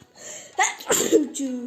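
A single close, sharp human sneeze, with a short breathy intake before it and a voiced tail after, in a quiet room.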